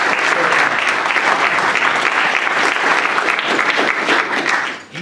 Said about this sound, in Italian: vi chiedo veramente un applauso da dedicare a Cosimo